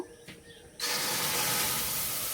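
Mashed ripe mango hits a hot wok on a lit stove, setting off a sudden, loud, steady sizzle and hiss after a quiet moment, with no talking.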